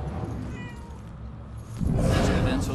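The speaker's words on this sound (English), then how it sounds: "There's the kitty cat." A cat in the video game Murdered: Soul Suspect gives a faint meow early on before a louder wash of ambient game noise takes over.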